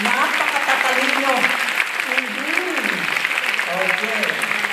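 Audience applause for the teachers and staff of a school of economics during a keynote address: steady, dense clapping throughout, with a voice speaking over it.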